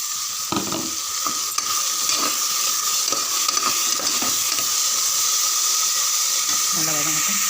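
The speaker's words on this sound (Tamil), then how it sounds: "நல்லா வதங்கட்டும்." Moong dal, chana dal and green peas sauté in oil in a pan for rava kichadi, giving a steady close sizzle and hiss with occasional scraping stirs and a brief voice near the end.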